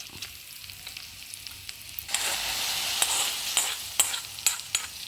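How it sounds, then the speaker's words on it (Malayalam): Hot oil tempering of mustard seeds, fenugreek, chilli and curry leaves poured into a dish, a soft crackle that bursts into loud hissing sizzle midway and keeps popping with sharp spits. "നമ്മൾ ഉലുവ ഇട്ട് അതിൻ്റെ കൂടെ നമ്മളിതാ മുളക് ഇട്ട് കറിവേപ്പില ഇനി നമ്മളതിലേക്ക് വറവ് ഒഴിച്ച് കൊടുക്കാം"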